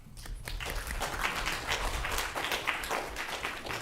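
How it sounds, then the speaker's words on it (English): An audience at a student government meeting gives a steady, dense round of applause, moderately loud and sustained throughout with little talk. "So if we can give everybody a round of applause"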